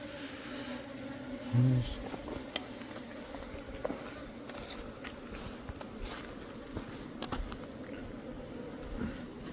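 Low, steady buzzing of Eastern honeybees entering a hive through a hornet-proof entrance, with scattered small taps and clicks and one brief louder hum near the start.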